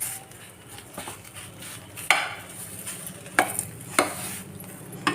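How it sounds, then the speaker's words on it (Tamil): A spoon stirs rava and dal together in a pot for rava pongal, giving a steady soft scraping with a few sharper metallic clinks against the pot, close and fairly clear, with no talking. "கலக்கிக்கிடுவோம்."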